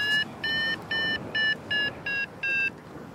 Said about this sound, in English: That little beeping noise is a great noise.